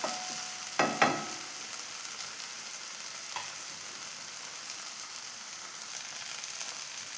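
Flipped mackerel fries in masala with a constant close hiss, and a couple of brief utensil knocks come early on.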